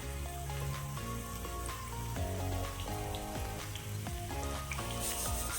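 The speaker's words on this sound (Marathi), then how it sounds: "आपण लाल मिरच्या, सुक्यावाल्या मिरच्या टाकू। त्या पण नीट फ्राय करायच्या" Dried red chillies sizzling in hot oil for fish pickle, a steady crackling spatter like light rain, fairly quiet and close, with faint clinks over it and no voices.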